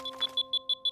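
An alarm signal in a cartoon gives a rapid series of short, bright electronic beeps, about six evenly spaced pulses within a second, clear and alone.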